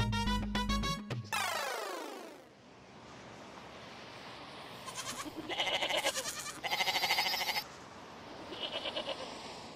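Goat bleats break out in bursts over a steady, surf-like wash of background noise, following a rising synthetic sweep at the start; the animal is a sacrificial goat brought home for Eid.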